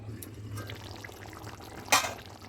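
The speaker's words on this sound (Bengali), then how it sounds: "দিয়ে ভালো করে নেড়ে ঢাকা দিয়ে দেবো একটু।" Mustard rohu fish curry in a pan, a soft sizzle with faint stirring scrapes and one brief louder scrape of the utensil near the end.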